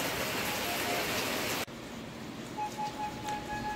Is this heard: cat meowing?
no